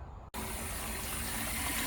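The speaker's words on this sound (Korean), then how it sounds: "물소리가 시원하죠." Water gushing steadily and loudly while a garden plot is watered, starting abruptly after a brief pause and continuing as an even, close rush.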